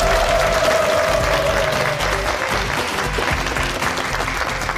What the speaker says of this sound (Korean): 우리 노태권 선생님의 중졸 3부자의 인생 역전 비법 명강의를 여러분의 큰 박수로 청해보도록 하겠습니다